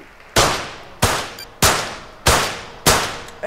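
Five sharp gunshots from a video game Olympic shooting event ring out at a steady, even pace, each a loud crack with a metallic ring that fades before the next.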